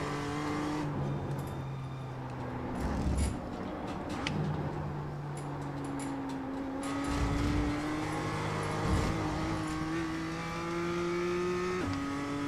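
Race car engine in a sim racing game, revving hard through repeated upshifts as it accelerates flat out, its steady rising whine stepping down at each gear change, loud and close with no talking.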